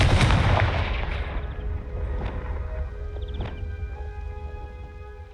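A blasting spell in the Hogwarts Legacy video game erupts in a loud, booming explosion at the start, then rumbles and crackles away into fainter debris and echoing tails.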